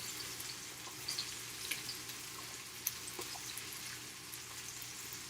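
White onions fry in a pan with a soft, steady sizzle and faint crackle, a low constant hiss with occasional small pops and no talking, quiet and close.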